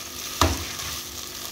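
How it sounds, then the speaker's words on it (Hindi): Shredded boiled chicken stirred in a hot pan, a low frying sizzle broken by one sharp scrape or clack of the spoon partway through. "अब चिकन डाल दिया है, अब इसको थोड़ा सा मिक्स कर लें।"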